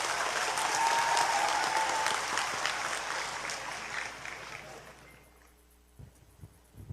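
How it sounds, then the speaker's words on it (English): A graduation audience applauds loudly, a dense steady clatter of many hands that fades out over several seconds into near silence with a few faint knocks at the end. "Let us all give ourselves a very big round of applause."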